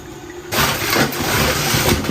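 Water runs over a big Boston lobster as it is rinsed in a kitchen, a steady broadband rush starting abruptly after a quiet half second and continuing close and fairly loud with no talk.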